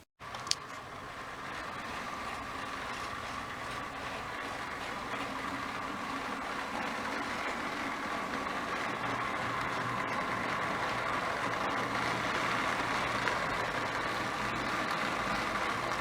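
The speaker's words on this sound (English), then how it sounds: "So this is our eastbound train." A model railway train runs eastbound toward a yard on a home layout, giving a steady, continuous mechanical hum and rumble at close range that holds level throughout, with no talk over it.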